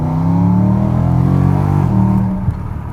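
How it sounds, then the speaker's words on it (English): BMW E92 M3 with a Magnaflow exhaust revving up loud and close, its deep engine note rising steadily then falling off sharply as the throttle closes near the end. "I really enjoy the exhaust note that's coming out of here."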